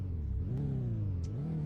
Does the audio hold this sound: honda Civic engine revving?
yes